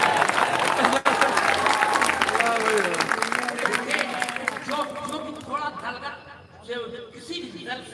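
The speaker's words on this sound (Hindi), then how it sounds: "क्या ताली बजाइए।" Audience applause at a mushaira in Bhadohi, a poetry evening for communal harmony, fills the first few seconds as a dense, steady wash of clapping, then thins out as a voice and music take over.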